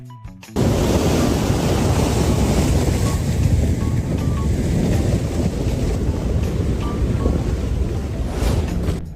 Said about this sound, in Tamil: இந்த சேராலான வெள்ளம் எப்படி கடல் அலை போல சீறிக்கிட்டு வருது பாருங்க